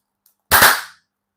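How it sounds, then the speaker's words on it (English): A single party popper goes off indoors with one sharp, loud crack that fades quickly, preceded by a faint tick and followed by silence. "smell of party poppers when they go off"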